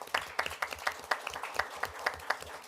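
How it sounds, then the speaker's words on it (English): A small group at a city council meeting claps for a speaker, sparse distinct claps in a loose rhythm, fairly close and moderately loud. "Let's give him a round of applause."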